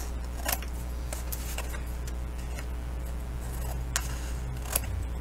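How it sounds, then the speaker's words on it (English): Scissors snip paper corners for a handmade bookbinding project, producing a handful of sharp, sparse clicks and cuts over a steady low background hum, close by with no talking. "I'm going to cut in towards the corner and then turn my scissors and cut out"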